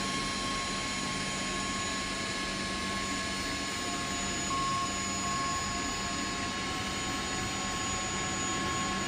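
Engines of a CH-47D Chinook twin-rotor helicopter at flight power in the X-Plane 11 flight simulator: a steady, loud, unbroken turbine drone with a high whine that lasts throughout, with no talking.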